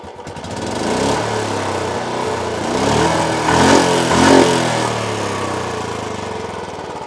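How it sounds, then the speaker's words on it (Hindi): An old Royal Enfield Bullet 350 motorcycle with its original silencer idles steadily nearby, a continuous low engine thump with slight swells in loudness and no talking. "तो चलिए पहले आपको पुरानी बुलेट की आवाज़ सुनाते हैं"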